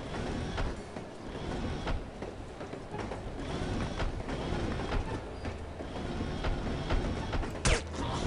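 Train rolling along tracks in the video game No One Lives Forever, aboard the Oriental Express: a steady, close rumble with repeated rhythmic clacks of wheels over rail joints and a brief sharp burst near the end.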